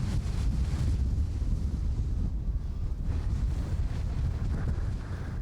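Wind blows across a snowy mountain moraine in a whiteout, buffeting the microphone in a constant low, rumbling roar with no letup.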